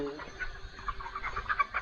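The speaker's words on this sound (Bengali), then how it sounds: "দেখছো মুরগি খুব সুন্দর আছে" Chickens in a poultry shed cluck softly and continuously, a low murmur of overlapping calls from several birds nearby with no distinct loud crow.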